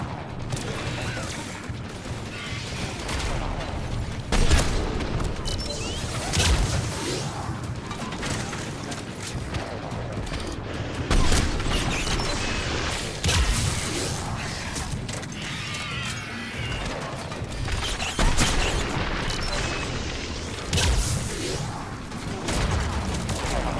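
Enemy gunfire in a Mass Effect 3 battle, a dense, continuous clatter of sharp shots and metallic impacts with occasional heavier booms, loud and close throughout.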